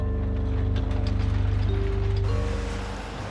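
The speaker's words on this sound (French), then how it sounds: "c'est l'heure du démoulage et de la découpe en pain de savon" An industrial machine cutting blocks of Marseille soap into bars, a loud rapid mechanical ratcheting clatter with steady tonal motor hum, running continuously and close, no voices.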